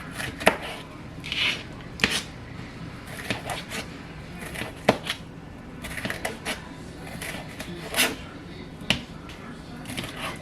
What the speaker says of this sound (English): I'm just going to do them in thinly slices.